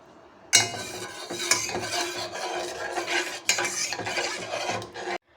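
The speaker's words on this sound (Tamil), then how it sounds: "சிம்மிலே காய்ச்சினே இருக்கணும்" A thickening mixture of milk and ground raw rice flour for traditional Pesaha appam, simmering over a low flame while a spoon stirs and scrapes rhythmically against the pot, close and continuous.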